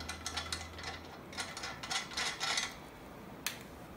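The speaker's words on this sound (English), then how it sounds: "I'm gonna take this other bolt and screw it down so that it doesn't move." A ratchet tightens a bolt with quiet bursts of quick metallic clicks, irregular clusters of pawl ticks with short pauses between, followed by one sharper click.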